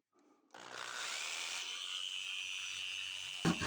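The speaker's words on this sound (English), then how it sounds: "I use my jigsaw on one cut" A jigsaw cuts wood at a 30-degree angle for a half dovetail joint, a steady, loud buzzing whine that starts abruptly and runs unbroken for about three seconds before a short clatter at the end.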